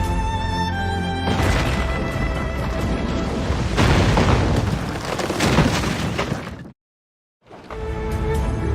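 Ship cannons fire in a naval battle in the video game Assassin's Creed Rogue, making loud, continuous booming and crashing blasts that break off into a short silence before resuming.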